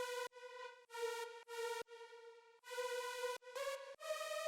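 A bright synth lead made in Serum plays a short melody of sustained, buzzy notes taken from the top notes of a chord progression, with abrupt gaps between them and nothing else playing.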